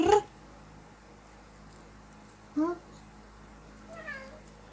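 A pet cat meows indoors in short calls spread across a few seconds, starting with a strong close meow and followed by two softer, rising calls, with no talk over them.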